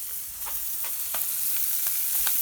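Cajun-style smelts frying in a pan and being turned, a steady close sizzle carrying soft, irregular scrapes and taps as the fish are flipped, no voices.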